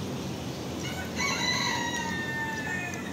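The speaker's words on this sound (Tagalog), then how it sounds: "Yun o, may manok o." A rooster crows once, a drawn-out call rising over steady outdoor background noise.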